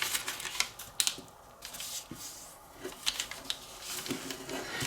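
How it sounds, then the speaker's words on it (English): Paper flaps folded and creased for an origami geometric toy make crisp crackling and rustling, with irregular sharp taps and crinkles close up, fairly loud, and no talking. "fold this flap up"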